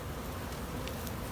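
A dense, steady buzzing of many bees fills the air, continuous and fairly close, with no voices.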